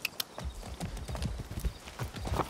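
Horse hooves clip-clop in a quick, steady gallop rhythm in the video game Far Cry 6, close and continuous across the whole moment.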